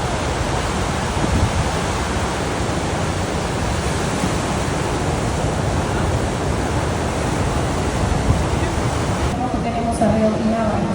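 Ocean surf at a surfing spot, a loud continuous broadband roar of breaking waves up close with no clear gaps, cutting off briefly near the end, with speech mixed in.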